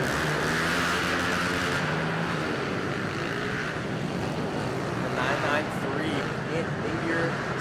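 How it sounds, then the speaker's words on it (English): Small 110cc carbureted motorcycles, including a Yamaha, race around an indoor track, their engines a steady distant drone beneath continuous loud race commentary. "older carbureted versions of these small 110cc machines, such as the 171 out on track right now of Mac Frazier on the Yamaha."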